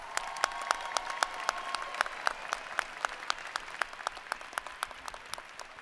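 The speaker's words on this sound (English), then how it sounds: "Let's give them a round of applause" Applause at a university commencement for doctoral degree candidates, a soft, distant crowd with a few sharp, close claps ringing out regularly over the patter.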